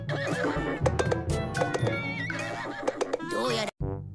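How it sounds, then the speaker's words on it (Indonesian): A cartoon toy horse that has come to life in a Doraemon episode neighs loudly in a long, wavering whinny, followed by a brief second call, with cartoon sound effects around it. "Kuda mainannya bergerak layaknya kuda asli."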